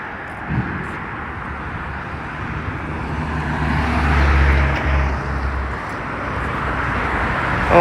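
Busy street traffic on Don Mills in Toronto rumbles loudly and continuously, with a heavy vehicle swelling past in the middle and a steady broadband roar throughout.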